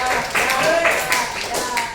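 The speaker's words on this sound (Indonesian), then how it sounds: "Tepuk tangan untuk kelompok 1." Classroom clapping for student group 1 during a teaching practice session, a brief scattered round of hand claps from a small group, close by, with a voice talking faintly over it.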